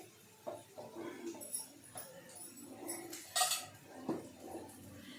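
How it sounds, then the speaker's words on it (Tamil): Cooked vegetables are moved into a bowl, with scattered clinks and scrapes of a utensil against metal pots and dishes, close by and fairly quiet, in a home kitchen while cooking a fenugreek curry. "அந்த காயை நான் ஒரு பவுலில் தான் மாற்றிக்கிறேன்"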